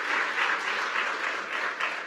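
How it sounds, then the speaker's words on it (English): A conference crowd in Washington, D.C., claps loudly for itself, with thick, continuous applause that stays strong and even from start to finish. "Give yourselves a round of applause."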